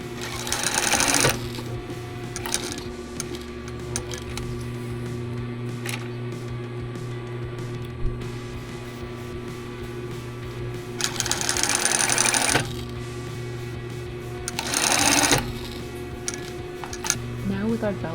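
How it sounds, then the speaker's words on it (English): Sewing machine stitching down belt loops on fabric shorts, a steady hum with three louder bursts of fast stitching. "I'm just gonna stitch to hold the belt loops down"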